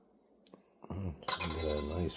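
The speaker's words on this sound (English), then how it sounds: "A nice flapjack flip." Pancake flipped in a pan at home while cooking breakfast with an omelet and sausage: a soft thud and clatter of the pan near, followed by a sizzling, clinking rattle of cookware up close.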